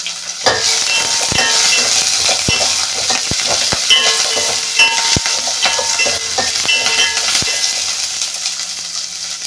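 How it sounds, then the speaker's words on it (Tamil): Small onions sauté in a pot for one-pot sambar, sizzling steadily close up while a spoon repeatedly clinks and scrapes against the pot. "சின்ன வெங்காயம் நல்லா வதங்கினதும் நல்லா வதங்கிருச்சான்னு பார்த்துக்கோங்க"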